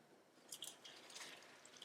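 A handful of horta greens drops into cooking water, giving faint, close splashes and soft drips in a quiet kitchen, with no talking.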